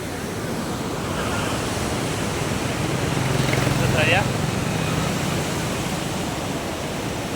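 The Narayani River at the Nepal-India border, channelled through a gated diversion, rushing in a loud, steady broadband roar that fills the whole stretch, with a faint voice briefly audible within it.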